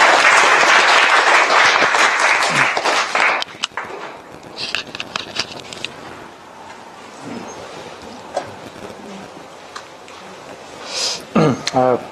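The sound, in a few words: applause for a speaker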